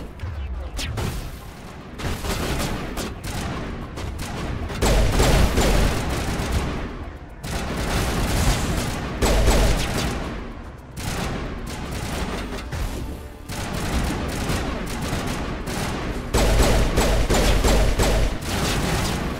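Dense, sustained gunfire from the Mass Effect video game, with rapid bursts of shots and heavy booms following one another almost without pause, loud throughout the whole stretch and with no talking over it.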